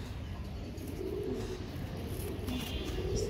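A pair of Royal Teddy pigeons kept as fancy birds, giving soft, low cooing close by in short repeated bursts over faint background noise, with a few brighter chirps near the end.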